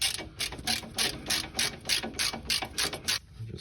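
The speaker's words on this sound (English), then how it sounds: "Now I'm going to take off the bracket holding the brake line." Half-inch ratchet loosening the brake line bracket bolt during a front strut replacement on a 1996 Oldsmobile Cutlass Ciera, a fast, even series of close clicking strokes about a dozen long, then stopping.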